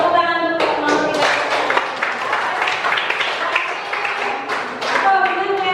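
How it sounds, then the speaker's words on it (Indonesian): Classroom audience clapping for a student group, a dense patter of many hands that runs for several seconds, with a voice or tonal sound sustained over it at the start and end. "Tepuk tangan untuk kelompok 3"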